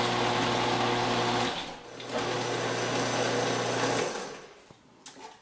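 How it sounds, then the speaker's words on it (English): A food processor pulses pâté with heavy cream: a loud whirring motor buzz runs in two long bursts, then cuts off, followed by a few faint clatters. "cover on and pulse until it's smooth"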